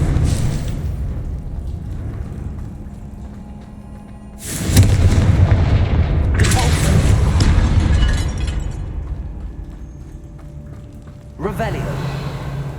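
Confringo explosion spells go off in Hogwarts Legacy on Xbox Series X: loud, booming blasts with rumbling tails, three separate bursts with a quieter stretch of game ambience between them.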